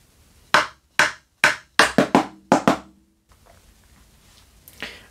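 Snare drum rim shot followed by a sticking pattern of sharp, dry strokes, several evenly spaced and then a quick cluster, closely recorded, ending in quiet room tone.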